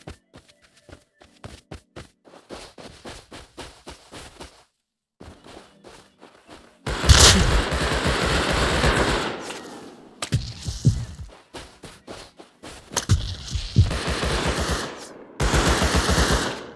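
Rust console gameplay: AK rifle fire in loud, close automatic bursts, one long sustained spray and several shorter rapid volleys, separated by quieter stretches of footsteps and taps.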